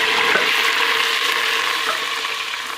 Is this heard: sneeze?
no